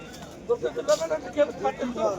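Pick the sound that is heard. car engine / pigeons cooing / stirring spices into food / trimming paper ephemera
pigeons cooing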